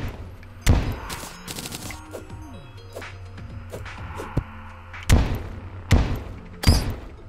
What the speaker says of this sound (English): from here, we will bomb our way down